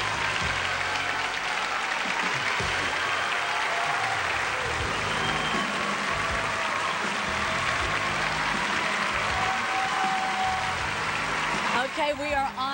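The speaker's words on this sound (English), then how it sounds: "You can tell there's a contingent here from every state to cheer on the contestants." Large pageant audience at Miss Teen USA 1992 applauding and cheering the semifinalists, a dense, continuous wash of clapping and whoops that holds steady throughout, with a voice talking over it.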